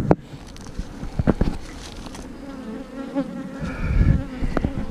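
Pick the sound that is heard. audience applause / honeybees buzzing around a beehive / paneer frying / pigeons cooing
honeybees buzzing around a beehive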